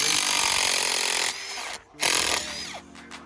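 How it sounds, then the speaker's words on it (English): A power drill backing screws out of timber concrete formwork on a shed slab job, a loud continuous whine that cuts off, then starts again in short bursts. "Pulling all the screws out."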